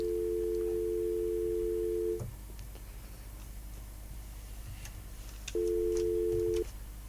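A telephone line tone during a call plays a steady, loud hum for about two seconds. It drops out, and after a stretch of faint line noise it returns for another second.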